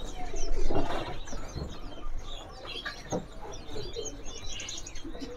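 Sikatan londo KW, also called kancilan bakau, singing nearby with a busy run of sharp chirps and shrill whistled notes in short bursts, with other birds faintly in the background.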